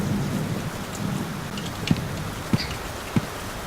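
Steady rain pours through a thunderstorm in the indie horror game The Clearing, with a broad wash of rainfall and three dull low thumps of thunder spaced about half a second apart, no talking.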